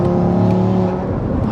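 A fully built 770bhp Audi RS3 engine pulls hard under acceleration, a loud, sustained, droning roar heard from inside the car, steady throughout the short burst.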